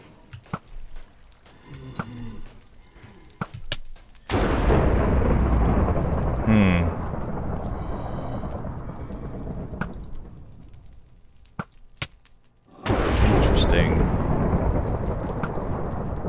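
Minecraft thunderstorm with heavy rain on a map with lava: two loud rumbling thunder crashes break in over a rain wash, separated by a quieter stretch with scattered clicks.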